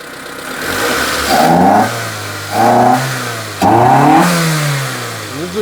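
A car engine, run after a fuel treatment was added, idles steadily and is revved three times in short bursts, each climbing and settling back to a smooth idle, heard close with no talking.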